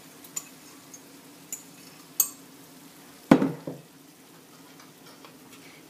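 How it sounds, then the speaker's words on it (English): Stuffing stirred into a pork mixture in a pan off the heat, heard as sparse faint taps and one sharp clatter of a utensil against the pan, followed by soft scraping in a quiet room. "And we're going to mix that all up together"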